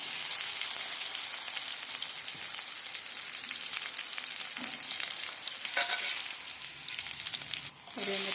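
Cumin and garlic sizzle steadily in hot oil in a pan, a loud, dense, continuous frying hiss up close, with a brief clink of a utensil near the end.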